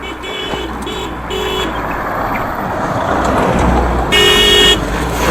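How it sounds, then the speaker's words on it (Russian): Car and truck horns honk repeatedly on a busy road in Sichuan, China, several short and sustained toots over loud, steady traffic rumble close by. "Тут гудят, меня раздражает. На поворотах, везде."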